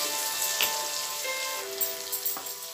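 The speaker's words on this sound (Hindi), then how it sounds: "अब डायरेक्ट इसमें अभी प्याज हम फ्राई करेंगे।" Onions fry in hot oil in a pan for egg curry, a steady bright sizzle close by with a few pops and spatters and no talk.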